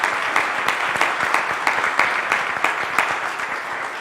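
A church congregation at St. Matthew's claps together in a dense, sustained round of applause, steady and full throughout with no voices over it.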